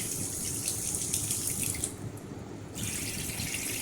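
A waterfall-style kitchen sink faucet runs in a steady hissing stream, with a short dip in flow midway before the full rush resumes, close and loud with no talk.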